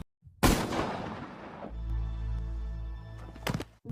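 A single sharp gunshot in a film scene, with a man shot while jogging, followed by a lingering low rumble and a couple of fainter impacts near the end.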